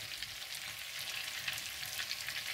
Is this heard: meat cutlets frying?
yes